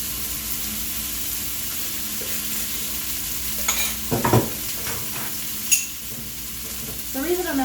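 Pickled garlic and a pesto cream sauce made with bone broth sizzle in a hot pan while a utensil stirs, with a steady frying hiss and a few louder scraping strokes.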